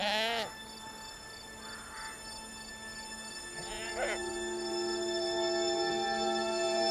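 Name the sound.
goat bleating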